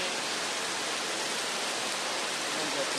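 Heavy downpour with strong wind in the late afternoon, heard as a thick, continuous wash of rain noise at a steady, loud level throughout, with no talking.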